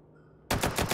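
A rapid full-auto burst of about five shots from a gun in the VR shooting game Hot Dogs, Horseshoes & Hand Grenades, loud and close, cutting in suddenly after a brief quiet pause.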